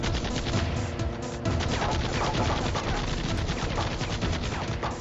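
Continuous dense gunfire in a Battlefield-style shooter game, a steady loud barrage of rapid shots and bursts running for the full stretch with no pauses.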